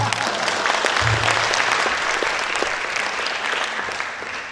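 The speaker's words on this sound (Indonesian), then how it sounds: "Tepuk tangan lagi." Audience at a university guest lecture claps loudly in a dense, continuous round of applause that holds steady before easing slightly at the end, with no voices on top.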